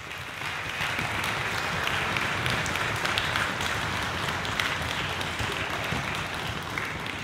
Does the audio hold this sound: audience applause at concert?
yes